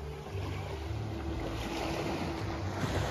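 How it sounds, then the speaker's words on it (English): Ocean waves wash onto a beach on St. John in the US Virgin Islands at sunset, a steady broadband surf rush with wind noise buffeting the microphone and a low tonal hum underneath. "The waves are starting to get a little bigger on the north side of the beach."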